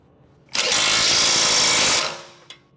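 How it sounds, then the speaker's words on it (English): A tool drives a socket onto the lower strut bolt of a Honda Civic, a single loud, harsh whirring burst of about a second and a half that tails off, followed by a brief click. "Use a 17mm socket with a 19mm wrench to tighten the other lower strut bolt"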